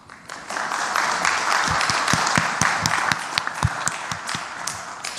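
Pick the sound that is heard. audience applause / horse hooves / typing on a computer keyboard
audience applause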